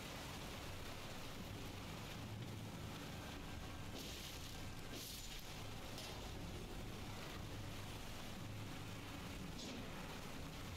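Steady roaring rush of a waterfall in the Elden Ring video game, a dense broadband wash that holds at an even level throughout with no voices over it.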